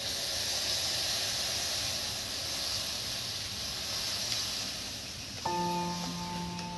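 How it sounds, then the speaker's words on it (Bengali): A small amount of water poured into a hot kadai sets off a soft, steady steaming hiss that lingers and slowly fades, ending with a faint clink of metal. "শুধু এই কড়ার মধ্যে আমি অল্প একটু জল দিয়ে দেবো প্রথমে"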